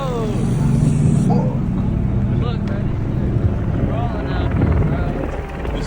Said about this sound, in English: then we hear a helicopter over our heads